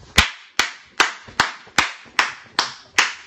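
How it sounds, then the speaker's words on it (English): Eight sharp single hand claps in a steady, even rhythm about every 0.4 seconds, each crisp and close with a short ring-out, with nothing else sounding. "You said do the clap."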